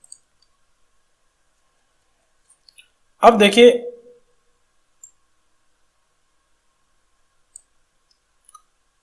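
A computer mouse clicks a few times while someone fills in an online income tax return (ITR 1) form; soft, isolated clicks come one at a time amid quiet, with a short stretch of speech in between.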